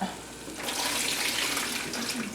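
Water poured off a pot of stored raw potatoes into a sink, starting quietly then jumping to a steady splashing gush after a moment, running close and continuous to the end.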